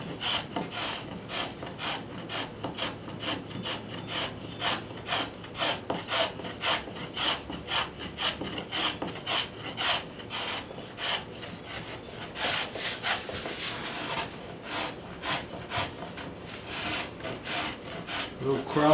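Travisher and spokeshave shave a wooden chair seat, cutting across the grain around a knot in steady, rapid back-and-forth strokes of dry rasping, close and continuous with no talking.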